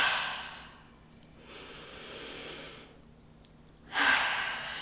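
Slow, deep breathing: a long audible inhale, a softer drawn-out exhale, then another strong breath, close and alone in a quiet room.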